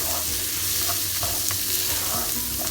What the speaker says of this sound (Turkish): Şimdi çok güzel bir şekilde pirinçlerimizi kavuracağız.